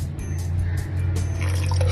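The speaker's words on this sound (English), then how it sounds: "we can start adding the pasta water now" Pasta water being poured into a thickening white sauce in a pan, giving a steady soft liquid trickle and bubbling over a low hum, continuous and close.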